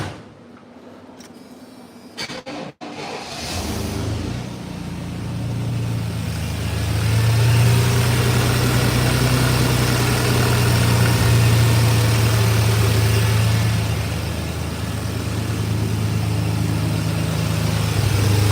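A 1986 Chevrolet C10 with a rebuilt 4.3 V6 TBI engine cranks briefly, catches and settles into a steady, loud idle that holds close up for the rest of the clip, with no talking.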